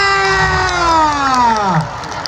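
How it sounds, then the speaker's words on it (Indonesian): Schoolchildren at an Indonesian Independence Day marching event cheer and shout loudly as a crowd, with a sustained high voice sliding downward over the noise before the sound drops off near the end. "Oke, tepuk tangannya luar biasa."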